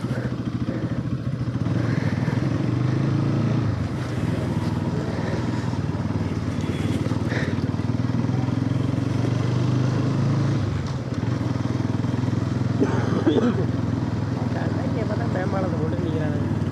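Motorcycle riding near Thanjavur: a steady engine drone and road rumble run throughout, loud and close, with a rattling clatter over it. People talk over the ride.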